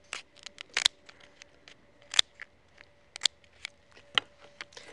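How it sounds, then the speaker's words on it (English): Sturdy kitchen scissors snip down the back of a Moreton Bay bug shell, a series of sharp, crisp clicks and crunches at an irregular pace, close and fairly quiet with no talking. "The first step is to cut it down the back using sturdy scissors."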